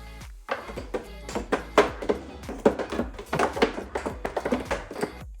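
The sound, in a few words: spice drawer opening and closing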